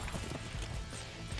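Horse hooves gallop in a rapid, steady clatter within the Dynasty Warriors 8 video game, loud and dense against a busy game soundscape.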